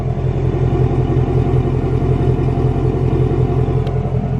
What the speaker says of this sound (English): Got the exhaust down there right. I know y'all hear while I'm standing back here, but let me go ahead and let you guys hear this rumble real quick.